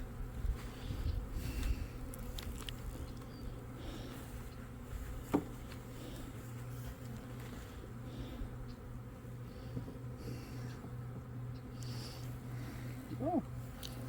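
Honey bees hum in a low, steady drone while being installed from a five-frame nucleus into a hive, with faint scattered handling noises and a brief knock near the middle.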